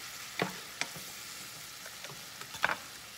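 Food cooking in a pan with oil, a faint low sizzle with a few sharp ticks and pops from the oil, quiet and without talk.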